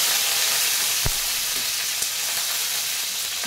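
Dried red chillies and curry leaves sauté in oil for a banana flower kootu, giving a steady, close frying hiss with a couple of faint clicks from the pan. No one speaks.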